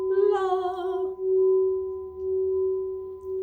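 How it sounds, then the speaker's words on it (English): A Lemurian singing bell is struck once and rings out with a clear, pure sustained tone that hums steadily and slowly fades, wavering faintly at the start. "Saint Germain Lemurian singing bell"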